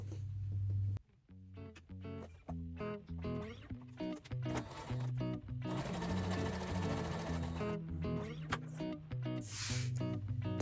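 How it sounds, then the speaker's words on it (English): A sewing machine joins a fabric quilt square onto a strip in close, loud bursts of rapid needle thumping. The motor starts and stops several times, with short gaps between runs. "sew that square right onto the strip"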